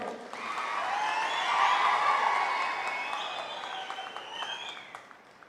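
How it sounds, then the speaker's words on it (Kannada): A crowd at a public event in Belagavi claps and cheers, swelling to a loud burst and then gradually fading, with a few whistles rising above the applause. "ಒಡೀರಿ ಜೋರಾಗಿ ಒಂದು ಚಪ್ಪಾಳೆ"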